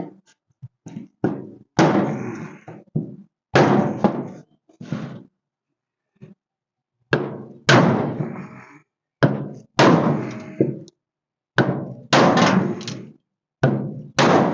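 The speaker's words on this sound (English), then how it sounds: "Let me just see if I can hammer it." Repeated hard metallic bangs as a bent hood on a 1956 Ford milk truck is hammered, in irregular bursts, each strike ringing briefly before the next, with short pauses between clusters of blows.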